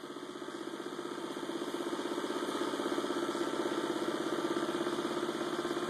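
An 11-inch magnetic motor spins up, its hum rising into a steady, pulsing drone that grows slightly louder and holds at speed. Close and continuous, with no voices.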